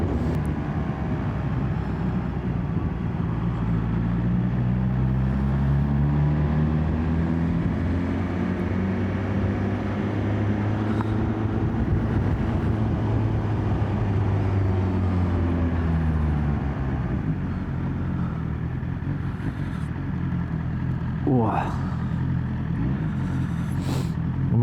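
A motorcycle rides along a road on Scotland's north coast, giving a steady, continuous engine drone with a wind-blown rumble that rises and falls in pitch over time. It sounds close and constant, and no one speaks.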